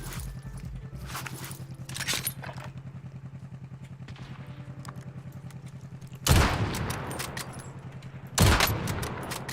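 Gunfire in Call of Duty Warzone, bursts of rapid shots and clattering reports over a steady background hum, with two loud, heavy blasts near the end.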